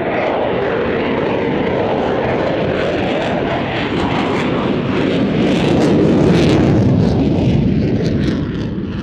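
An RAF military fast jet roars past at the Cosford Airshow, a loud sustained broadband roar that swells slightly midway and holds steady throughout.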